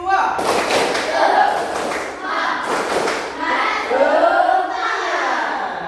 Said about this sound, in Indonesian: Tepuk semangat versi 2.